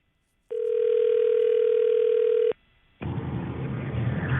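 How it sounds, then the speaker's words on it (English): A telephone dial tone sounds loud and steady for about two seconds before cutting off at the start of a call to a listener's phone during a live morning radio show, followed by a burst of broad line noise. "Let's call Kim"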